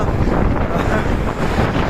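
Strong wind buffets a microphone outdoors in a continuous loud, low rumbling roar that never lets up and sounds close and distorted.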